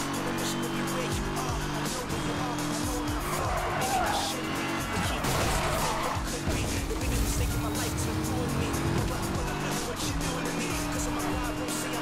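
A car in the Need for Speed Hot Pursuit racing game roars at high speed with skidding tire squeal, a loud continuous engine drone under a person talking.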